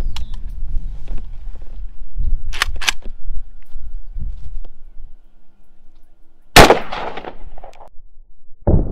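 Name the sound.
AK rifle gunshot into ballistics gel at 8 yards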